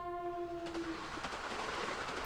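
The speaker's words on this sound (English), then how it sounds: "Across the way, a train rumbles by." A yellow-striped train rumbles past in the video game Steins;Gate, with a steady horn-like tone at first. The tone gives way to a diffuse rolling rumble with faint clacks, at moderate distance and fairly quiet.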